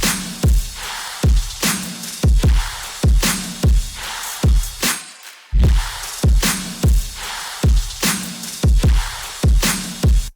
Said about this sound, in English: And then all the drums together should sound like this.